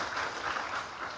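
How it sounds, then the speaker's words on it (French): A crowd claps in a dense, steady patter for about a second, moderately quiet with no voices over it. "Nous applaudissons"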